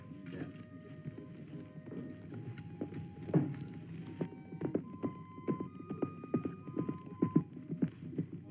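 Horse hooves clip-clop in a steady, moderately close walking rhythm beneath a low hum and sustained musical tones, with a faint whinny.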